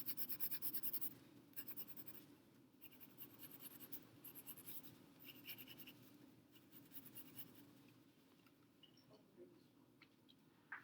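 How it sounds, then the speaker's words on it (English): Red pencil shading on paper, a steady soft scratchy rubbing that runs for about ten seconds at low level, with brief pauses and lighter strokes near the end. "So I'm going to shade away from that with my red pencil"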